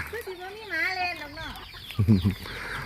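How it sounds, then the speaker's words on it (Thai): Chickens in a rural Thai village call close by, with a drawn-out, wavering cry followed by a short burst of clucks. "เลี้ยงไก่เลี้ยงกา"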